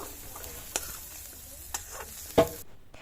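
Soft, steady sizzling of vegetables frying in a pan for vegetable fried rice, broken by a few sharp clicks and scrapes of stirring.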